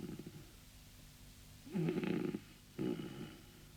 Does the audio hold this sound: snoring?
yes